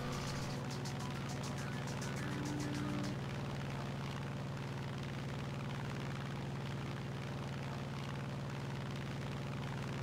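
A propeller aircraft engine from a P-47 versus Yak-3 air battle video game drones loudly and steadily for the full ten seconds, a thick continuous hum with no breaks.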